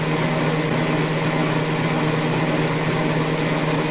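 A 63 kW generator engine running at steady speed, a constant close hum with a strong low tone and broad mechanical hiss, unchanging throughout with no voices.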